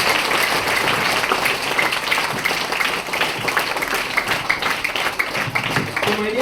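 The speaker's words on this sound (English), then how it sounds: "Here, use round of applause." Students and guests at a school badge distribution ceremony break into a round of applause, steady and dense clapping filling the room for several seconds, with some voices mixed in.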